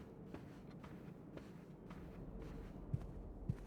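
Footsteps of a player character walking through a mansion in the puzzle game Blue Prince, a steady soft shuffle of steps over low room tone with two slightly sharper thuds near the end.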